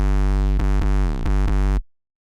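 A deep 808 bass note, heavily distorted with Camel Crusher, booms alone in a remix drop with a gritty buzzing tone, pitch sliding a few times before cutting off abruptly.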